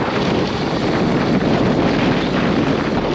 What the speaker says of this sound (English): You can probably hear the wind up on the Bostel.